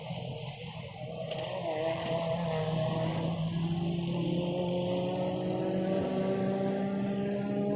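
Go-karts race around a track. A small engine drones in steadily, with a rising and then sustained whining tone that stays loud and continuous, and a second engine pitch joins it.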